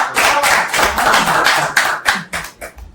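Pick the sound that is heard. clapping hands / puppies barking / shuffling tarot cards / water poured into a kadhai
clapping hands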